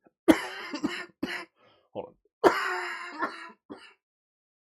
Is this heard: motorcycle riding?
no